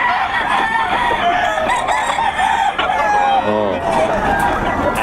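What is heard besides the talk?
roosters crowing and chickens clucking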